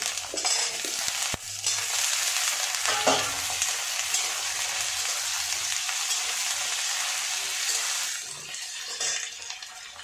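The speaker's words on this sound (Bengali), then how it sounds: "যে আলু আলুটা দিয়ে দিচ্ছি" Potato pieces dropped into hot oil for a fish roe fritter curry, sizzling loudly and continuously with crackling bursts and a few stirring clatters, no voices.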